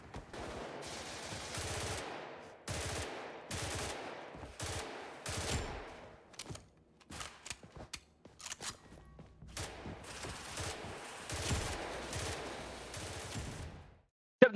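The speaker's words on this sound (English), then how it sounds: "Some good examples of pre-firing look like this." Rapid bursts of automatic gunfire from pre-firing in the video game Blackhawk Rescue Mission (BRM), coming in several loud clusters separated by short pauses, with a few scattered single shots in a quieter stretch mid-way.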